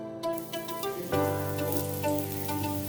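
Snake gourd pieces dropped onto a hot dosa pan, a sudden steady frying sizzle that swells and holds after a short quieter start.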